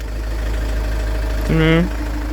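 The engine of a Jaguar XF sedan idles with a steady low rumble. Partway through, a brief tonal voice rises over the engine noise.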